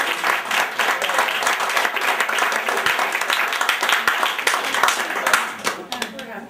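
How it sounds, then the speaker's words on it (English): Guests clapping at a family wedding shower, a lively close round of applause with sharp individual claps and some scattered voices, tapering off near the end. "Let's give him a round of applause."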